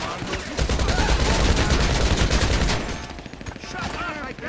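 Rapid gunfire in the Grand Theft Auto V video game, dense bursts of shots crackling loud and close for several seconds before thinning out into scattered reports.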